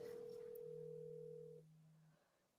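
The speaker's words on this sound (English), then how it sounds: "I can hear her phone." A faint telephone tone comes through a call line, with two steady, sustained tones that overlap and then stop one after the other, alone with no voices.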